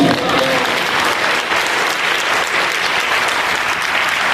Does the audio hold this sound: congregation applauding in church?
yes